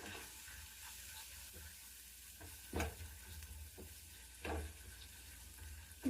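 Curry leaves and turmeric fry in oil in a pan with a steady low sizzle, while a spoon stirs them in a few distinct scraping strokes, for a cucumber yogurt chutney tempering.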